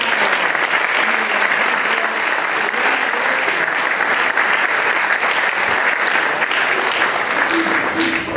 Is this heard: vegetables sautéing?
no